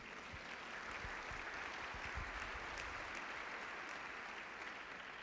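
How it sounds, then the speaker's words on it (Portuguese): A church congregation applauds together, producing a dense, steady wash of clapping that sounds somewhat distant and reverberant and lasts several seconds without pause. "Dê um aplauso a Jesus."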